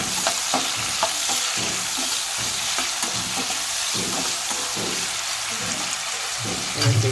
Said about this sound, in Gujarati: ડુંગળી, લીલા મરચાં અને ટામેટાં નાખીશું। સરસ બધી વસ્તુને આપણે સોતે કરી